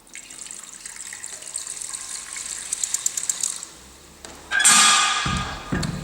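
Bath water poured indoors, a soft trickle building before a sudden loud gush and splash near the end, heard alone.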